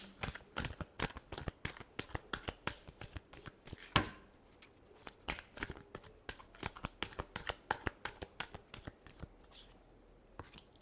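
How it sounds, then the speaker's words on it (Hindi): Tarot cards shuffled by hand in a quick, close run of crisp riffling snaps and slaps, with brief pauses between bursts and no voices. "Last shuffle."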